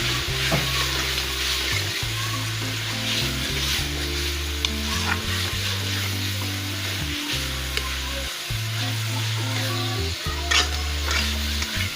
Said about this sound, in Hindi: इनको मैंने चॉप कर लिया, ये फ्रीज किए हुए थे मैंने। अब बुनाई करती हूँ उनकी।